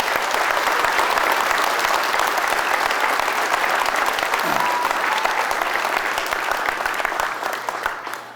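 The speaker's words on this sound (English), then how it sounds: "we're going to give a very loud round of applause for the police and fire departments." An audience at a Rhode Island labor movement holiday gingerbread event gives loud, sustained applause for the police and fire departments, a dense crowd of clapping that fills the space and fades slightly at the end.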